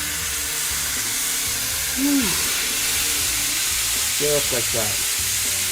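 Italian sausage with peppers and onions sizzles and hisses steadily in a hot pan, loud and close, with brief stirring clatter and a voice speaking over it.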